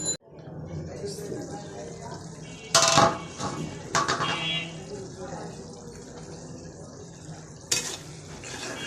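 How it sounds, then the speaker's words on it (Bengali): Spices and dried bamboo-leaf shutki fish are stir-fried in a pan with jackfruit seeds nearby, giving a low frying hiss broken by loud clanks and scrapes of a utensil against the pan, with talking over it at times. "মশলাটা ভালো করে কষা, শুটকিটাও ভালো করে কষানো দিব"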